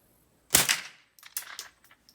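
A single sharp gunshot is fired through a target and into wood, followed by a few fainter clicks and rattles of handling.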